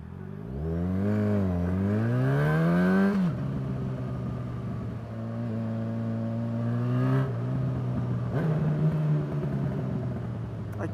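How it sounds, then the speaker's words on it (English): A vehicle engine in Battlefield V revs up and down, then drops pitch sharply on a downshift and settles into a steady loud drone with further gear changes. "I definitely needed that downshift then."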